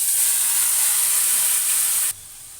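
Marinated chicken drops into hot oil for a red chicken kosha dish, setting off a loud, bright, steady sizzle that cuts off abruptly to a quieter hiss, with no voices.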